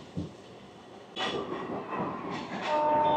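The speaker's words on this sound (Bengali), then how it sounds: "একদম অসাধারণ একটা কার্ভ নিচ্ছে train Krishnanagar city junction station থেকে আমঘাটার পথে।" A local train on the newly opened Krishnanagar City Junction–Amghata line, rounding a wide curve: a soft rumble that swells into a loud rolling roar, with a steady whistle-like tone rising near the end.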